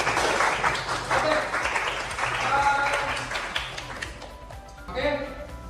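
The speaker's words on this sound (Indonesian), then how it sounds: "Tepuk tangan untuk kelompok 3." Brief applause from a classroom group breaks out, uneven clapping that swells and fades while voices talk over and after it.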